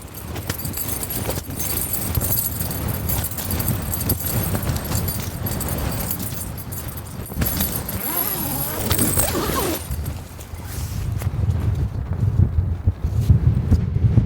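Wind gusting around a tent on a snowy mountain: continuous buffeting and fabric flapping close to the microphone, rising and easing in strength throughout, with rattling and rustling mixed in.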